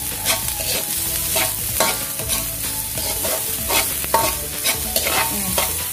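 Chopped onions and garlic fry in a pan for a tripe stew. A loud, continuous sizzle is broken by repeated scraping stirs and spoon taps, with no voices.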